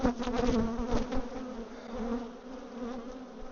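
Agitated honey bees buzz loudly and continuously at an open hive, a dense droning swarm close by that eases slightly after the first second.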